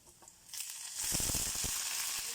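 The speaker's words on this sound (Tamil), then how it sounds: "வடகம் போட்டோம், கத்திரிக்காய் போட்டோம், எண்ணெயில் இது வதங்கட்டும்." Vadagam and brinjal frying in a generous pool of oil for sambar, a soft sizzle that swells into a loud, steady crackling hiss close by, with faint stirring pops and no talking.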